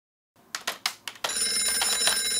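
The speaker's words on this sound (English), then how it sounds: "Yo, Banana, call Max" A Banana Phone gives a few short electronic chirps as a call is placed, then rings continuously with a bright, buzzy trill, loud and close.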